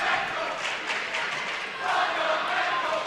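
A high school student section cheers at a playoff volleyball game in a gym, a loud sustained crowd chant and roar that holds steady, briefly dips, then swells again, with no clear single voice over it.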